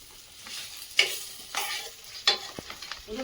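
Close-up sizzling and crackling of magur catfish frying crisp in oil, with a few sharper spatters and stirring scrapes standing out against a steady hiss.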